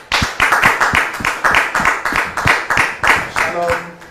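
An audience welcomes a guest onto the stage with loud, rhythmic clapping in unison, beating out a quick steady pulse. A voice briefly rises over the claps near the end.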